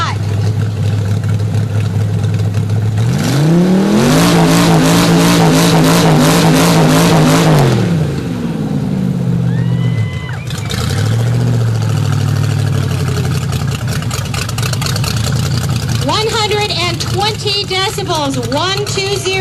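A 1931 Chevy truck, a former dump truck, revs its loud open-header engine at a hot rod contest at a Route 66 event. It idles, then climbs into a long roaring rev and settles back to idle. A crowd is audible throughout.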